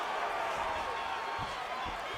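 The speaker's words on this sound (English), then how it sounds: "huge pop from the crowd as the fighters get back up to their feet" A UFC 296 arena crowd roars during the Leon Edwards vs Colby Covington title fight, a dense steady wall of distant cheering that holds at constant loudness with a few dull thuds underneath.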